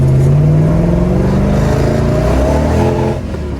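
A 1971 Chevrolet Chevelle pulls away with a loud, close, throaty engine rising in pitch as it revs and accelerates, then easing off sharply near the end.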